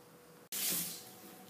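Water pours suddenly into flour for zea bread dough, starting as a bright splashing gush that eases into a steadier, quieter flow after a near-silent moment.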